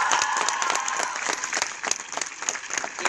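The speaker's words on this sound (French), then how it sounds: "On peut l'applaudir, s'il vous plaît" An audience at a film premiere of Aladin in Brussels applauds vigorously, with many sharp claps blending into a lively, rippling roar that thins slightly toward the end.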